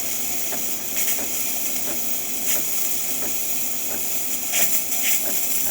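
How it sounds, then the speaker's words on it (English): A DeLonghi espresso machine's steamer gives off steady hissing steam, with several short bursts and faint clicks from the machine. "We're gonna see a bunch of steam going out through here"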